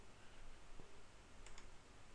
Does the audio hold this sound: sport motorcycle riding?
no